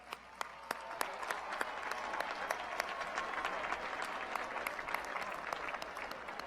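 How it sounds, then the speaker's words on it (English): Sustained applause from a large audience at a university commencement ceremony following a musical performance, dense steady clapping with a few sharper claps standing out, continuing throughout. "Please join me in another round of applause."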